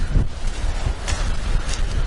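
Strong wind in the village of Sougia, Crete, buffets the microphone in steady gusts, a rough low roar with occasional hissing bursts, no voices.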